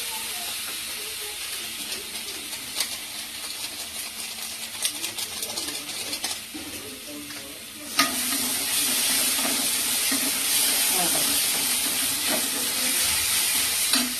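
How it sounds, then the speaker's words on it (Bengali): Masala and garam masala powder sizzle and hiss in a pan while being stirred for palak paneer, the frying growing suddenly louder and brighter partway through, with scattered scraping clicks. "গরম মশলার গুঁড়ো দিয়ে ভালো করে কষাতে হবে মশলাটা।"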